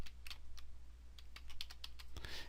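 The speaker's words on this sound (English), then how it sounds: "So we'll go there and type in the customer ID" Someone types on a computer keyboard, producing quiet, irregular clusters of crisp clicks against a soft background hum, with no voice.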